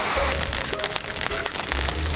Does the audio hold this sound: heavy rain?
yes